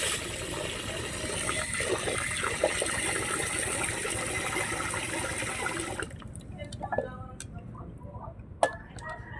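Water is poured from a container onto rice for washing in a home kitchen, a steady close splashing pour for about six seconds that stops abruptly, followed by a few faint drips and small clinks.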